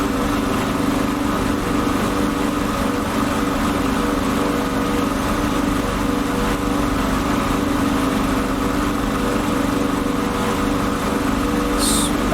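A Supermarine Spitfire's piston engine roars in a flight simulator game, a loud, steady drone with a constant pitch that holds for the whole stretch, with no talking.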